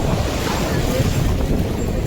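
Sea waves roll in on Puri beach, a steady broadband wash of surf with wind buffeting the microphone, close and continuous throughout.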